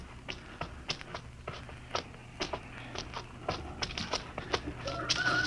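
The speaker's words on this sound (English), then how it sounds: "I could swear that sounded like a rooster." A rooster in a sci-fi radio drama clucks and calls in a series of short, faint bursts over a quiet, misty outdoor scene, with a louder call near the end.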